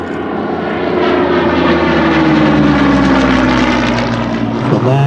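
A Hawker Hurricane WWII fighter plane flies in an air display, its piston engine and propeller producing a loud, steady droning roar with a slowly shifting pitch as it passes close by.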